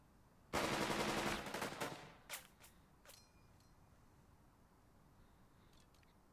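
A short loud burst of automatic gunfire from the WWII strategy game Burden of Command, followed by a few scattered fainter shots and pings fading into quiet.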